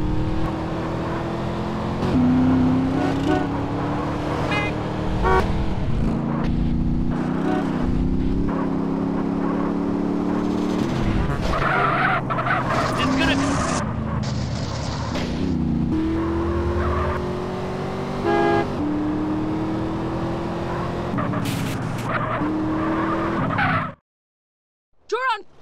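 Car in GTA San Andreas driving hard with a revving, shifting engine, repeated tire squeals and skids and bumps, loud and continuous until a brief cut near the end.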